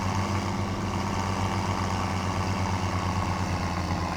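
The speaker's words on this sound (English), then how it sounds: "This hill is always fun to climb with this thing in a full load. Just hear that engine working." A JCB Fastrac tractor in Farming Simulator 17 labours uphill under a full load, its engine giving a steady, unbroken low drone that stays loud and even throughout, with no talking.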